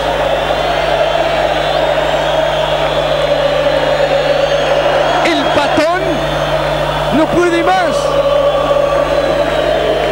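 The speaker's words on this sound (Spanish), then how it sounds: "Gritan los hinchas de Central." Rosario Central football fans shout in a packed stadium during a 1999 Apertura match, a dense continuous roar that stays steady throughout while a commentator talks over it.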